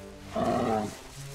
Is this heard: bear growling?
yes